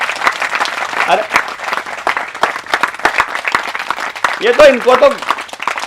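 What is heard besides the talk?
audience clapping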